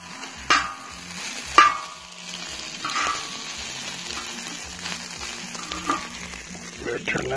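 Crispy hash browns fry in a cast iron pot on a camp stove, making a light sizzle with sharp scraping and clanking stirs at intervals. There are a few quiet background voices.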